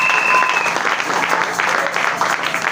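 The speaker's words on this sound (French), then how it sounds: "On acclame pour la parole de Dieu." A church congregation at a Sunday service claps together in sustained, dense applause, loud and close, with a brief high tone near the start and murmured voices mixed in.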